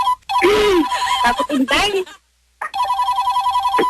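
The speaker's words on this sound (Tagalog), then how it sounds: "nagri-ring ang telepono, pwede bang sagutin natin?" Telephone ringing in a home, two bursts of a repeated electronic trill with a short silence between them, loud and close, with people talking over the first ring.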